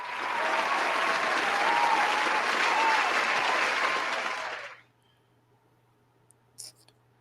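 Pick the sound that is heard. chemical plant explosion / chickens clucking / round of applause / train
round of applause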